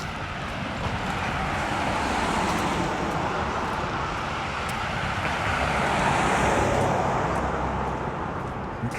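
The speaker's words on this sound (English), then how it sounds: "You watch the cars go by." Steady traffic on a Regina city street, cars rushing past in a continuous broad wash of road noise, fairly close, with a little wind on the microphone.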